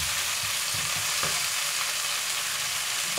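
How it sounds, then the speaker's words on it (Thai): Minced pork hitting hot oil with golden fried garlic in a pan, giving a steady close sizzle with faint stirring scrapes throughout. "เจือกระเทียมให้เหลืองนะคะกระเทียมของเราเหลืองแล้วเราก็ใส่หมูสับลงไปนิดหน่อยค่ะ"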